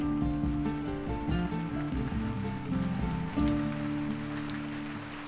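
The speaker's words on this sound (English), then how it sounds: "The rain is beginning to come down hard" Heavy rain pours steadily over an autumn apple orchard, a dense continuous patter on leaves and ground at close range, with no voices and a tonal hum running beneath the downpour.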